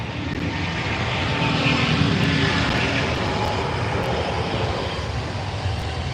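An Aer Lingus airliner at Heathrow produces a loud, steady broadband jet engine roar that holds without a break, close and continuous.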